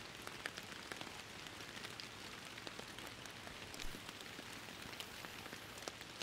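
Steady rainfall in the fishing video game Fishing Planet, a dense, even patter of drops on surfaces with faint scattered ticks, continuous and fairly quiet with no talking.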